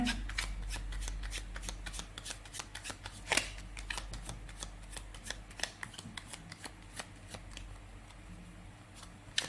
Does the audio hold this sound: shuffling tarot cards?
yes